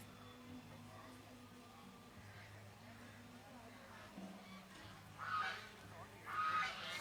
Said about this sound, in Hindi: ये जो डक्स जो हैं, बतखें बोल रही हैं